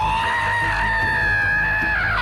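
An orc captain in the video game Shadow of War lets out a sustained, loud, strained scream, a single unbroken harsh yell held close and steady for a couple of seconds.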